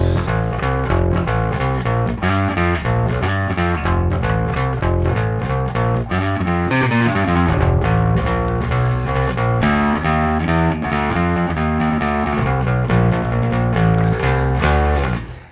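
A steady rockabilly swing bass line bounces in a walking rhythm under a full band with drums, continuous and loud throughout.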